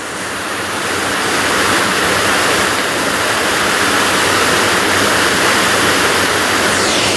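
A stream in Slaughterhouse and Somerton Combes rushes past on an autumn walk, a loud, steady broadband wash of flowing water filling the whole stretch without pause.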